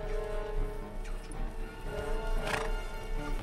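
Horses neighing and whinnying with clip-clopping hooves, a steady busy herd sound throughout, with one louder whinny rising near the end.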